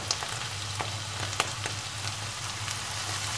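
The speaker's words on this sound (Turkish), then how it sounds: "Soya sosumu ekliyorum." Chicken and oyster mushrooms sizzle steadily in a pan after soy sauce is added, a dense continuous frying hiss with small crackles and pops.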